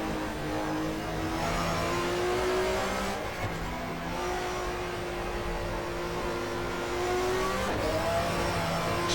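A touring car engine racing in the GTR2 video game at the Nurburgring, a loud sustained drone with rising pitch sweeps through the gears and a brief dip between shifts, no voices.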